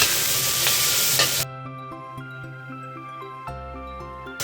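Garlic, onion and scallions hiss loudly in hot oil in a wok for about a second and a half before the sizzle cuts off abruptly and gives way to sustained musical tones.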